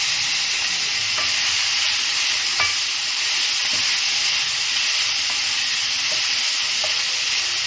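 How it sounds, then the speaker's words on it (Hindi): Minced meat (keema) fries in a pan with fried chillies, giving a dense, steady sizzle and hiss throughout, broken by occasional scraping clicks of stirring; close and loud, with no talking. "कीमा अच्छे से फ्राई हो रहा है।"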